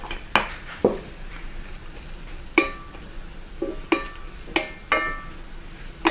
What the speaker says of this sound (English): I've got my garlic sauteing here, and I'm going to add the red peppers to it.